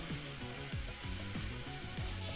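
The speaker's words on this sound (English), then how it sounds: "you put a lot of oil in your pan to really like fry the tofu sticks to get them like super crispy" Tofu sticks frying in plenty of oil in a pan give a constant close crackling sizzle, with faint rhythmic stirring knocks beneath the hiss and no talk.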